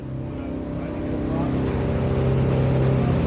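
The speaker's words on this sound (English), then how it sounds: "we are on the boat. We're going underneath a bridge, and we're heading on down to Disney Springs. It's a nice ride along the river." A boat cruising along a river toward Disney Springs at Walt Disney World, its steady engine drone and water noise holding close and even, swelling slightly louder over a few seconds with no voices.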